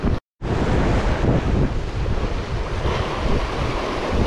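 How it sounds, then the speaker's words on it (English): Strong wind buffeting the microphone in a loud, continuous roar, with surf-like rumble beneath and a brief dropout near the start, on a fishing jetty in Atlantic City, New Jersey. "like so windy, like yesterday"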